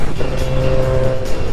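A car passes close by on a rural Japanese road near a roadside station, a loud steady engine and tire roar that swells and fades over under two seconds.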